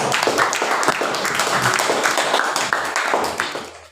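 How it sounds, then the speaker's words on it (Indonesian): A classroom full of students claps and applauds for classmates who have finished. The clapping is dense and continuous, with sharp individual claps over a bright wash for about four seconds before it fades out at the end. "Tepuk tangan dulu untuk yang udah."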